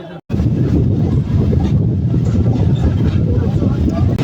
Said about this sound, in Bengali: চলে আসলো মধুমতি এক্সপ্রেস